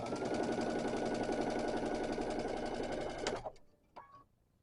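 A sewing machine hums steadily at close range as quilt block pieces are stitched together, the motor running continuously before stopping abruptly, followed by a couple of small clicks.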